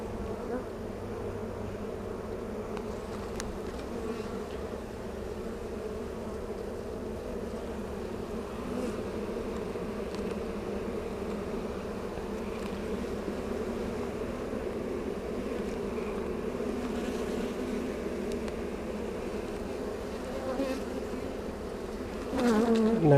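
Honeybees buzzing around an open hive during an inspection, a constant low droning hum that stays steady and close for the whole stretch, with a slight swell near the end.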